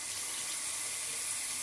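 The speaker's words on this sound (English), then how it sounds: "turn the faucet to hot water now" Water runs steadily from a faucet for shaving, a continuous broad hiss with no voices over it.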